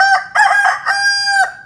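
A voice imitates a rooster's crow, a loud, close cock-a-doodle-doo in several rising and falling bursts ending on a long held note.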